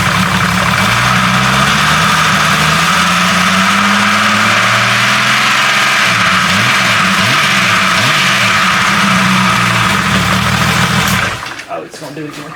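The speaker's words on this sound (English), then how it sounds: "this is what I would describe as a lifter pitter patter motor" A warm 4.0 engine idles steadily with a fast pitter-patter lifter tick over its low hum, close and loud throughout, before it cuts out near the end.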